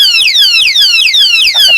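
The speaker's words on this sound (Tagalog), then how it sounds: "Ito nga yung anti-theft alarm lock na napakalakas ng alarm at talagang quality na product." A motorcycle anti-theft alarm lock blares loud and close, repeating rapid high descending electronic sweeps in a steady siren-like cycle.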